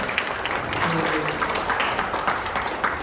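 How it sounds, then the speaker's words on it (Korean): An audience at an academic sports media society conference applauds: dense, even clapping fills the room throughout, with a voice faintly over it. "박수 한번 다시 쳐주시고요"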